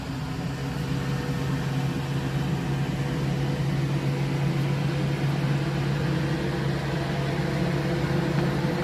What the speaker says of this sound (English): Excuse the tractor noise